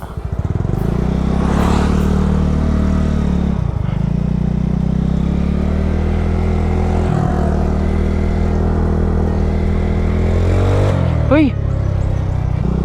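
A Yamaha Mio scooter engine drones and strains at steady throttle, close and loud, with a few dips in pitch and a brief rising whine near the end, while someone talks over it.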